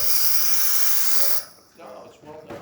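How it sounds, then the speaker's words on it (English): Steam hisses loudly and steadily from the steam wand of a Saeco espresso machine for over a second, then cuts off, leaving quieter gurgling and clicks. "the machine will push water through the entire system, and then we're going to have a steam coming out just like so"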